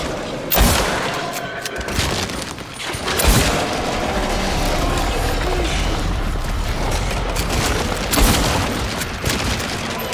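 Gunfire rings out in Silent Hill 2 Remake gameplay, a few sharp, loud shots spaced apart over a dense, reverberant game background, with a mechanical click between them.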